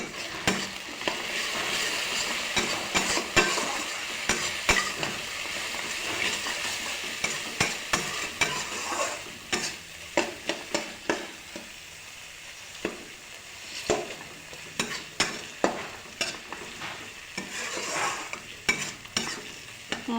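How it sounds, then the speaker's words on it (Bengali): Spices fry in a pan with salt and turmeric for a taro curry. A steady sizzle runs throughout, broken by repeated scraping stirs and metal clinks, with no talking. "মশলাটা প্রায় ভাজা ভাজা হয়ে গেছে"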